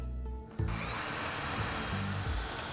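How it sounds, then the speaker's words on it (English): A power drill whirs loudly and steadily after a brief pause, its motor pitch dipping briefly under load as it bores pilot holes into wood, no voices. "I'm using this drill bit, which is slightly smaller than the screws that I'm going to use"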